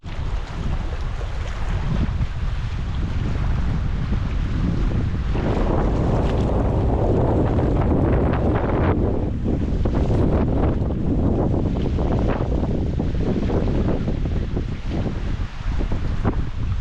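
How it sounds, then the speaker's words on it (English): Strong, steady wind gusts roar across a lakeshore campsite in the BWCA wilderness, a loud continuous rush with low buffeting and surges, like water and waves churning, filling the whole stretch without speech. "It's pretty windy"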